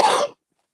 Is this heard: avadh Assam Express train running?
no